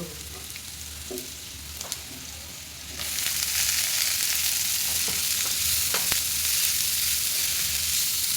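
Leafy greens dropped into a pan of fried garlic, onion and chilli, where a quieter sizzle with a few stirring knocks swells into a loud, dense frying hiss that carries on steadily, close by, no voices.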